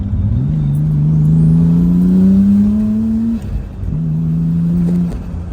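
A nearby Nissan Skyline R33 engine, fitted with Audi R8 ignition coils, hums and revs, its pitch slowly climbing before dropping and settling back to a steady idle.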